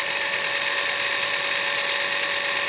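A custom bolt-on motor with a reducing gear drives a mechanical embroidery sewing machine at high speed on 24 volts, giving a steady, even high-pitched whine and hum that runs unbroken throughout, close and constant.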